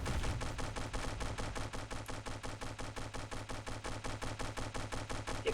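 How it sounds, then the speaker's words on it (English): Ship cannons on a boat broadsiding from the side in the naval combat game From the Depths, a rapid, steady volley of booming shots repeating evenly for several seconds, loud and dense with no voices over it. "it's turning sideways and broadsiding us with cannons of some kind"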